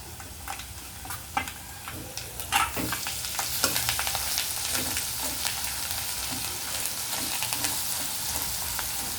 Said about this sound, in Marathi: तो मसाला आपण तेलामध्ये फ्राय करून घेऊयात